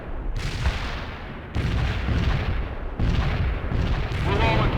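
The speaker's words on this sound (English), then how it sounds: "Fire mission received. Putting rounds on target." Artillery fire in the war strategy game World in Conflict: three heavy booms land about a second apart, each with a long rumbling tail. The blasts are loud and close and fill the clip.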